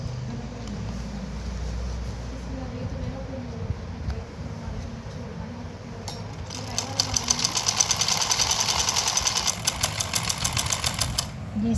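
A sewing machine stitches the folded hem of a samosa-cut pajama bottom, its rapid rhythmic clatter starting partway through and running steadily to the end over a low background hum.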